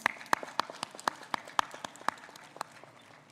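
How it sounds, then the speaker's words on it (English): Scattered, sparse clapping from a small audience at a start-up conclave at IIT Bhubaneswar, made up of distinct individual claps at an uneven rhythm, fairly close and thinning out as it goes. "Please give them a round of applause, especially for our students"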